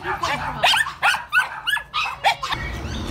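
A crowd of excited dogs at an animal rescue shelter barking, yipping and whimpering in rapid overlapping bursts, loud and close, with a person talking over them.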